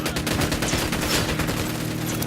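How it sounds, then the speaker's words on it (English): Rapid automatic gunfire in the video game Ghost Recon Wildlands, a dense, loud fusillade of close shots rattling continuously from start to finish with no pauses and no talking. "Opening fire."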